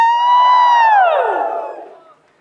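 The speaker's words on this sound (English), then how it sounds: "Give me 2 claps and a Ric Flair." A live crowd in Boston at a CrossFit event lets out a loud, sustained "woooo" whoop in the Ric Flair style, falling in pitch and fading away after about two seconds. No distinct claps stand out.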